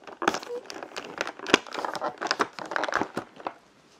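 Cardboard advent calendar compartment being opened, a quick run of crinkling and tearing rustles in uneven bursts, close to the microphone, with a voice faintly present.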